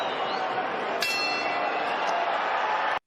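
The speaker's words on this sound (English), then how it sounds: "The second that bell rings, Garcia sprints to the center of the ring." A boxing ring bell clangs once with a bright metallic strike at the start of a WBC welterweight championship round, its ringing tone sustained over steady arena crowd noise.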